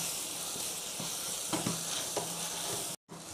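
Tomatoes sautéing in a pan for Pallipalayam chicken, giving a continuous quiet sizzle with a few soft stirring knocks, then a brief cut to silence just before the end.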